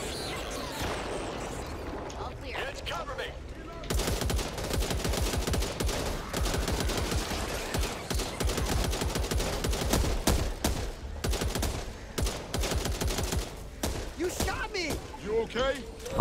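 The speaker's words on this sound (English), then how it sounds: "There's somebody in the bushes over there trying to shoot you." Rapid automatic gunfire in the co-op shooter Back 4 Blood rattles in long, dense bursts, continuous close shots with voices talking over them.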